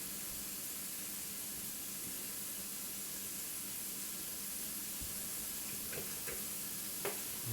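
Brussels sprouts sauteing in a pan on medium-high heat give a soft, steady sizzle and hiss, with a few light clinks and stirring knocks toward the end.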